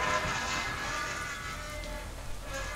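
Steady rain falling in the game Vernon's Legacy, a soft continuous hiss of drops with a faint low undertone, unbroken and even throughout.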